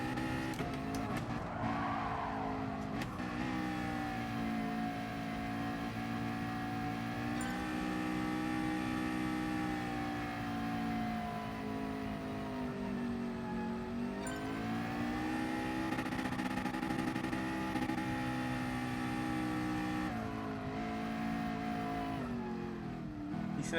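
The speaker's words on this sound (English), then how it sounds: "There's a car coming through here." A race car in GT Sport drones on for an extended stretch, rising and falling in pitch with gear changes, with faint tyre squeal here and there and no talk over it.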